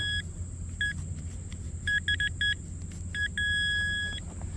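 Nokta Simplex Ultra metal detector giving short beeping target tones in quick bursts, then one longer held tone, over a low steady rumble on a hot day of detecting.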